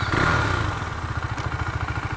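A KTM 390 Duke motorcycle engine idles close by after a brief start, a steady low single-cylinder chug with a fast, even pulse of mechanical clatter throughout.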